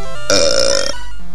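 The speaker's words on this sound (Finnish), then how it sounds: "Röyhtäisy." A single loud, drawn-out burp lasting about half a second, close and prominent, given during a Pokémon Yellow playthrough with no talk over it.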